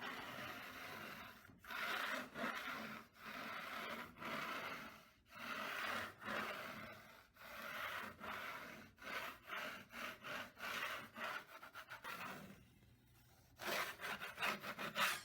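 A dried first skim coat of wall plaster has its high edges and ridges scraped off with a blade: close, rhythmic rasping strokes repeat steadily with short pauses between them, and nobody speaks.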